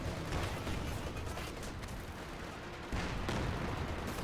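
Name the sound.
LEFH howitzer low-arc artillery shots in Company of Heroes 2 video game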